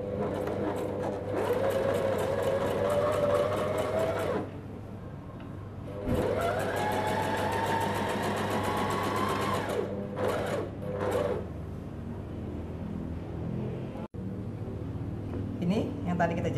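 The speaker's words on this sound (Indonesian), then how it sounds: "baru kita mulai jahit ya" A sewing machine stitches a child's pyjama in steady, fast mechanical runs with short pauses between them, close and fairly loud over a constant low hum.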